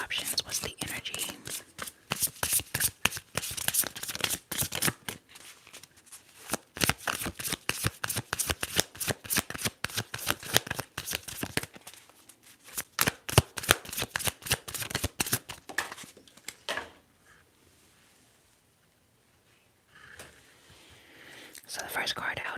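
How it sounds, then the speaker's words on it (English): Tarot cards shuffled repeatedly at close range in soft, crisp riffling bursts with a few short pauses, then quiet near the end as a whispery voice is faintly present. "Alright, let's shuffle."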